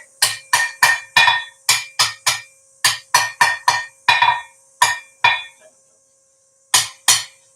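A hammer strikes red-hot forged metal on an anvil as it is straightened, giving a rapid series of ringing, metallic blows in quick bursts, a short pause, then two final strikes.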